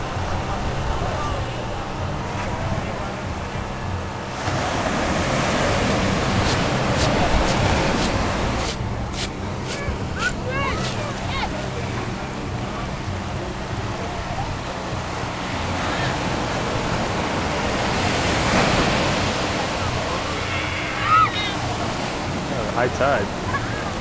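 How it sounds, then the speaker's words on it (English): Ocean waves washing onto a beach in San Juan at high tide around sunset, a steady broad wash of surf with wind noise on the microphone, and people chatting now and then over it. "We are at the beach watching the sunset in San Juan."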